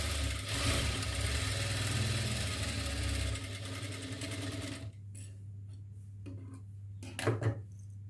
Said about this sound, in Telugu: కాటన్ కూడా సేమ్ ఈ రెండు సైడ్లు కుట్టు వేసుకోవాలి కలుపుకుంటూ